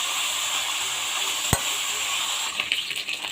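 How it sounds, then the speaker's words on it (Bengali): Fish heads fry in hot oil in a wok with a dense, steady sizzle close by. A single sharp knock lands midway, and a few scraping stirs follow near the end. "মাথাগুলোকে আমি ভালো করে ভেজে নিলাম।"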